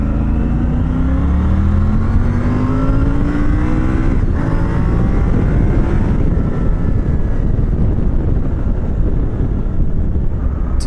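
A Triumph Tiger 900 GT Pro adventure motorcycle accelerating, loud and steady throughout, its engine note climbing through rising harmonic sweeps with a gear change near four seconds, mixed with heavy wind rush.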